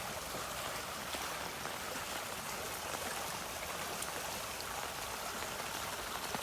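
Fast-flowing floodwater rushes through a flooded fishery, giving a steady, dense hiss of moving water that stays unchanged throughout.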